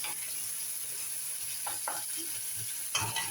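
Sautéing palaya (bitter gourd) in a home kitchen pan gives a steady low sizzle throughout, with a few brief stirring scrapes and clinks near the end.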